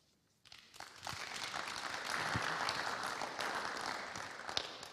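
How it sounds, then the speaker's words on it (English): Applause breaks out suddenly after a quiet moment at a career networking group meeting, a dense sustained clapping from a crowd that carries on to the end. "Round of applause"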